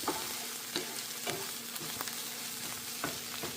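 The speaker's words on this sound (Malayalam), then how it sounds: "ഇനി മൊത്തം നമുക്ക് ഇളക്കി കൊടുക്കാം ഫ്ലെയിം ഒന്ന് കുറച്ച് വെച്ചായിരുന്നു കരിഞ്ഞു പോകാതെ" Cauliflower rice tossed with garlic sauce in a pan over lowered flame, a steady close sizzle broken by several sharp scraping stirs at irregular intervals, with no voices.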